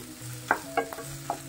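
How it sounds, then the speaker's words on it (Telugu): Capsicum pieces frying in oil, a soft steady sizzle broken by three or four quick spatula scrapes in a brief, close burst. "క్యాప్సికమ్ ముక్కలు వేసుకున్న తర్వాత ఇవి కొంచెం డీప్ ఫ్రై అయ్యేంత వరకు బాగా వేగనివ్వాలి."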